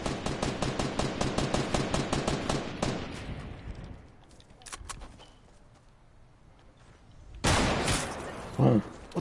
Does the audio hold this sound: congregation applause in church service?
no